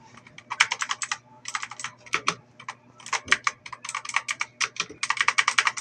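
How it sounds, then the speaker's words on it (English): Rapid typing on an HP GK100F mechanical gaming keyboard, close and crisp clacking keystrokes in quick bursts with brief pauses between runs. "It is really a mechanical keyboard after all."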